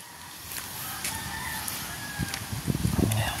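Chickens cluck and a rooster crows nearby in a rural yard after a typhoon, short calls rising toward the end over a steady background hiss, with faint talk.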